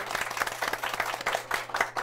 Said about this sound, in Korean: 우리와 같은 박수 또 한번 보내주시죠.